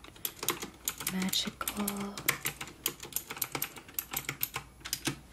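Typing on a computer keyboard in a quiet room, a close, rapid run of crisp clicking keystrokes in irregular bursts, with a brief soft spoken word mixed in.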